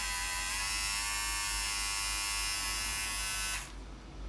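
A Philips Norelco OneBlade 360 electric shaver runs with a loud, steady close-up buzz and a high whine, then cuts out abruptly near the end.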